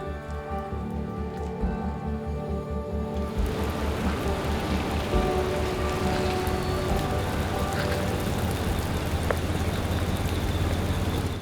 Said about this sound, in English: It rained a ton that day